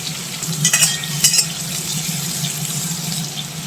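Soybean chunks fry in a pan with a steady close sizzle and hiss, broken by a couple of brief clinking stirs, with no speech.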